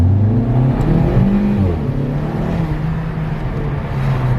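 A stock 2021 Kia Forte GT with a 1.6-liter turbocharged four-cylinder and resonator-deleted exhaust accelerates, giving a steady, loud, droning engine note with rising and falling pitch throughout, with no talk over it.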